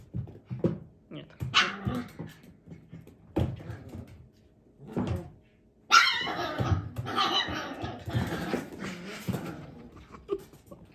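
Italian greyhound puppies play indoors, giving scattered yips, short barks and whimpers, some close and sharp, with livelier bursts of play noise in the second half.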